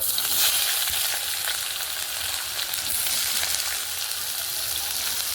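Onions go into hot oil with cumin, cloves, cinnamon and peppercorns and fry in a loud, continuous sizzle, a dense crackling hiss that stays strong and even from start to finish.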